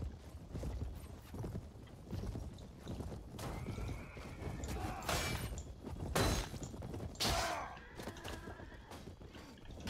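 Horses in the Bellum Imperii video game gallop with steady clip-clop hoofbeats and loud neighs and whinnies, amid busy battle noise and crashing impacts, with no talk over it.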